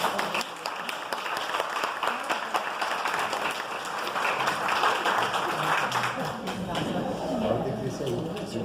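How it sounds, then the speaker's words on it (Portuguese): Applause at a parish Bible course evening session welcomes a speaker, a soft, diffuse patter of clapping from a modest audience that carries on steadily at low level throughout, with no distinct voices. "Vamos acolher com uma salva de palmas"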